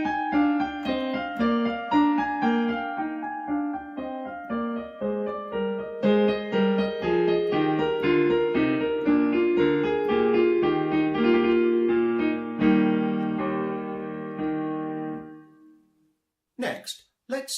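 Piano playing a Minuetto passage in a graded exam piece, with loud and soft echo-style contrasts between phrases and a triumphant forte ending, steady clear notes for about sixteen seconds before a brief clatter.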